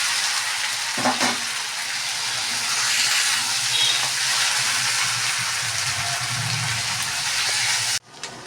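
Soaked potatoes frying in a pan with a steady, loud sizzle and hiss, a brief stir or clatter near the start, cutting off abruptly near the end.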